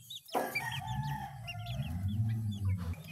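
Backyard chickens cluck steadily while a rooster lets out a long, loud crow close by. The birds are heard alone, with no one talking.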